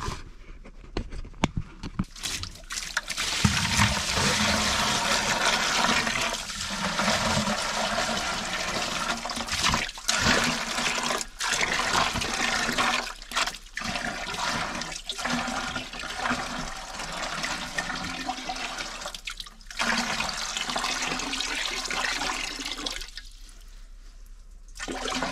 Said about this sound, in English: then I fill it up with rainwater